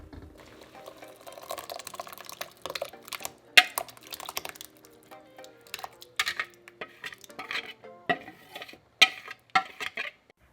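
A spoon clatters and scrapes in a pot of boiling water as a cornmeal mix is stirred in for Jamaican cornmeal porridge with coconut milk, giving irregular close knocks and clinks over a low bubbling simmer.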